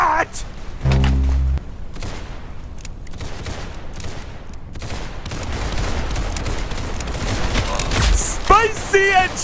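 Gunfire in the shooter game Arsenal, bursts of rapid shots and booms layered over game sounds, with a voice speaking over the action.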